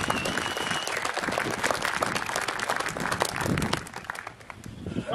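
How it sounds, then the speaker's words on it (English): Dense, steady applause from a large audience at a high school graduation ceremony, continuous broadband clapping throughout with a slight dip near the end and no speech over it. "get another round of applause for Fred and Chad"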